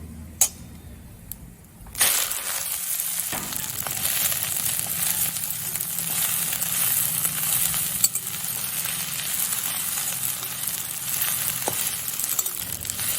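Chopped jute leaves drop into hot oil spiced with broken dried chilli and whole cumin, setting off a loud, steady sizzle with occasional sharp pops and clinks that run unbroken close by for the whole stretch.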